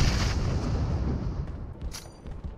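A grenade blast in the mobile battle-royale game PUBG Mobile: a loud, low rumbling explosion that fills the opening and slowly fades, with a brief brighter crackle near the end.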